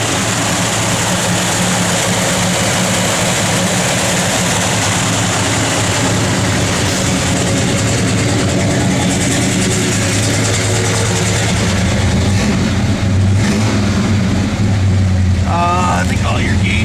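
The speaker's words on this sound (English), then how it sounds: "Do a little rev, Nathan." A 1970 Chevrolet Chevelle SS engine running loud and close, with a steady idle drone that rises in a rev near the end.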